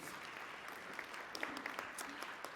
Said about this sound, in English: Let's give her a round of applause as she comes up